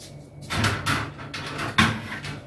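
A wardrobe door in a small apartment swings and bumps shut with a few close wooden knocks and rattles, moderately loud, no talk over it.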